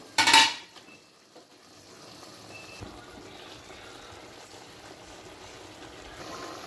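Tomatoes being stirred into mutton curry in a pan, with a sharp metallic clink at the start followed by soft scraping and a low, quiet sizzle.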